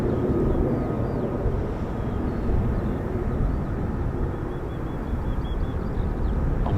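Continuous jet roar from F-35B stealth fighters departing RAF Marham, a broad steady rumble that swells and eases slightly, heard from a distance outdoors with no talk.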